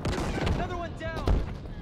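Shotgun blasts in Halo Infinite multiplayer, a couple of sharp booming shots in quick succession amid game effects and voice chatter.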